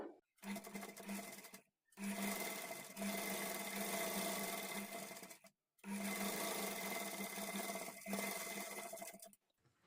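A sewing machine stitches invisible thread piping onto a sleeve in two long, steady whirring runs broken by short pauses, close and alone with no talk.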